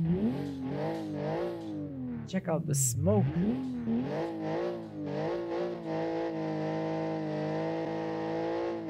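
A car engine revs repeatedly, its pitch sweeping up and down in loud pulls, before settling into a steady high drone; a person speaks briefly over it.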